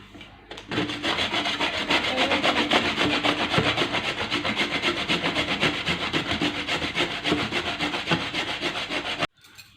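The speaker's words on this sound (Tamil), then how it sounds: "நம்ம எடுத்த ஃபுல் தேங்காவும் நம்ம நல்லா பொடியாக துருவி எடுத்துக்கணும்." Coconut grated finely by hand against a metal grater, a steady, close rhythmic rasping scrape repeating rapidly for about nine seconds with no talking.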